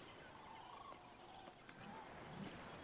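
A dodo in Ark: Survival Ascended gives a faint, distant gobbling call under steady outdoor ambience, with a few short bursts in quick succession.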